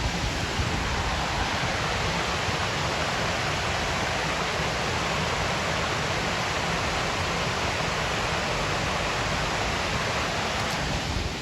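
Constant rushing of water pouring from a drainage outlet on a disused railway branch in Leeds, a broad steady roar that holds unchanged from start to finish.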